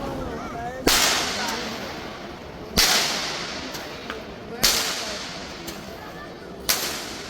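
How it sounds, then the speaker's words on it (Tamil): Four sharp firecracker bangs, set off to scare birds at Batu Caves, Malaysia, go off a couple of seconds apart, each echoing briefly in an open outdoor space. "இந்த வெடி வந்து பறவைங்க போகிறதுக்காக வெடிக்கிறாங்க"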